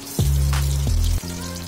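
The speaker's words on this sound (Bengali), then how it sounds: "ফ্লেমটা আমি মিডিয়ামে রেখেছি, যাতে পকোড়াটা ভেতর দিকটাও ভালোভাবে ফ্রাই হয়ে যায়।" Pakoras frying in hot oil over a medium flame, giving a steady, close sizzle with low bubbling that swells briefly as batter hits the oil.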